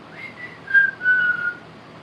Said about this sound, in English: I broke my whistler. I used to be able to whistle real good.